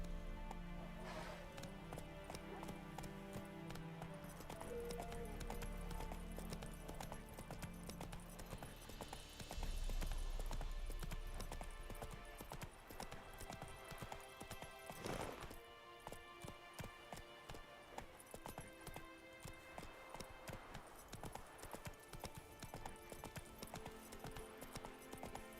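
Roach the horse gallops in The Witcher 3, a fast, steady clip-clop of hooves running under game music and ambience for the whole stretch, fairly faint overall.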